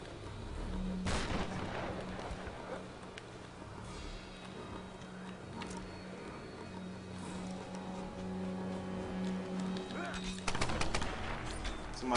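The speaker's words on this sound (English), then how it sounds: "Somebody shooting." Gunfire during a Tomb Raider (2013) multiplayer match: scattered sharp shots crack over a low steady background hum, with a strong burst near the start and another cluster of loud shots toward the end.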